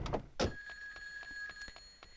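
A Yakuza phone rings in Grand Theft Auto 2, a steady electronic ring tone sounding clearly after a couple of sharp knocks, with no talk over it.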